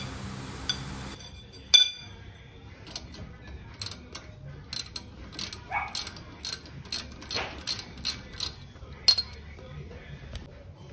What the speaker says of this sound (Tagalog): For the lower bolt, gumamit kayo ng 3/4 open wrench with the help of 12mm deep socket